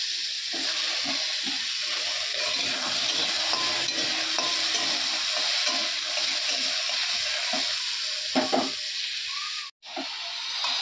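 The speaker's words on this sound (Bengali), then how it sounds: "কড়াইয়ের মধ্যে আমি অল্প করে সর্ষে দিলাম।" Mustard seeds and dried red chillies crackling in hot oil in a wok, a dense continuous sizzle with scattered pops and stirring scrapes, steady and close, cut by a brief dropout near the end.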